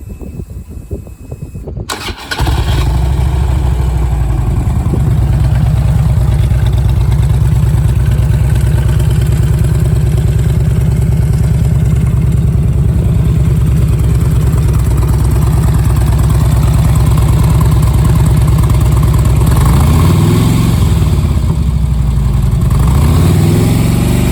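A keyless 2008 Harley-Davidson Street Glide motorcycle engine cranks and fires up after a brief pause, then settles into a loud, steady, throbbing idle that runs continuously to the end.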